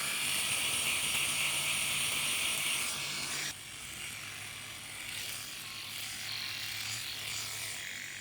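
A Philips electric shaver running close up as it is pushed across the skin under the nose, giving a steady buzzing hum whose tone shifts partway through as the head changes contact, with no talk.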